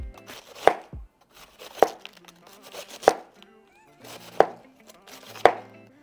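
A knife chops through a leftover head of cabbage on a board in five distinct, evenly spaced thuds, with softer crunching between the cuts. The chopping is heard close up, and no one talks.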